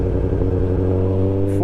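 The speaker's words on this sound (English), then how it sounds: "this has got a 4:1 stubby on it, as you can hear rumbling away in the background" Honda CB400 Super Four four-cylinder with a 4:1 stubby exhaust, idling with a steady, close, deep rumble that holds throughout.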